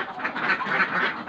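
Laying ducks in a pen quack in a dense, nasal chorus, several birds calling over one another in a steady, continuous clamor at close range.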